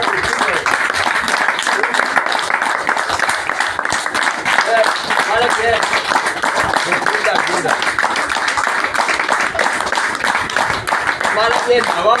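Applause in a weekly meeting hall for a technical engineer, steady clapping from a seated crowd running for several seconds, with someone speaking over it.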